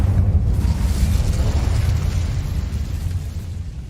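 A fire spell cast in the video game Hogwarts Legacy, giving a loud, sustained burst of roaring flame with a heavy low rumble that slowly eases over a few seconds, with no talking.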